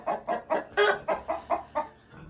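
Barnyard chickens clucking in a steady run of close, rhythmic bursts, about eight in quick succession, with no talk over them.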